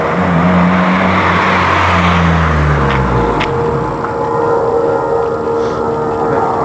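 Honda Civic Coupe 1.6 sports exhaust revving up and falling back twice in quick succession, loud and close, then settling into a steady idle rumble.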